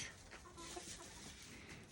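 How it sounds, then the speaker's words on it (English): Tiny silkie and satin mix chickens give soft, faint clucks in a quiet yard, a few short murmuring calls with a sharper peep at the end. "these are just little bitty tiny chickens"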